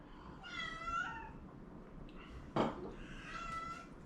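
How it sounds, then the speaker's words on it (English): A pet house cat meows twice, drawn-out and fairly close, with a brief thump or grunt between the calls against a low steady room background. "And we're going to let my cat out."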